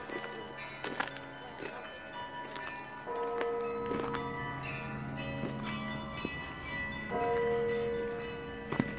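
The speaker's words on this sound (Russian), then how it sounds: "Звонят колокола в Богоявленском соборе." Bells of the Epiphany Cathedral ring out in several resonant strikes whose tones hang and overlap, heard at a distance over outdoor ambience and footsteps.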